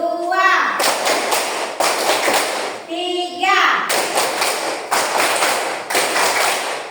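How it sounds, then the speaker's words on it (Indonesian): A group of children clap in unison in a rhythmic tepuk semangat cheer, sharp sharp claps in repeating bursts with short gaps, up close and loud, while a voice calls out between them. "Tepuk semangat ya."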